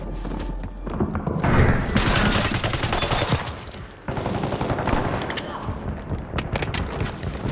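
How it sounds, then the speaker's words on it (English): Submachine gun fire in Black Ops 6, dense rapid bursts and heavy thumps of close-range shooting almost continuous across the clip, with brief quieter gaps between volleys. "That's an SMG."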